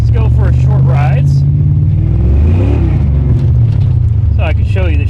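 A 1989 Ford Mustang GT Foxbody with a replacement engine drives off, its loud, close engine rumbling and revving steadily throughout while people talk over it at the start and end.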